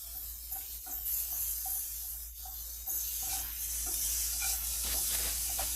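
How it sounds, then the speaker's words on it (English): Onions cooking in a pan for a HelloFresh meal give off a continuous low sizzle and hiss over a steady background hum, with a few light clicks and no voices. "We got the onions there cooking."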